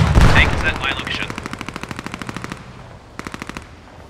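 Bursts of machine gun fire in the video game Post Scriptum, a rapid rhythmic string of loud close shots that pauses briefly and then resumes with a shorter burst, over a noisy battlefield background.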